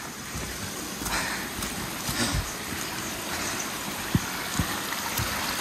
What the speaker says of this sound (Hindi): झरने क्रॉस करी जा रहे हैं इधर उधर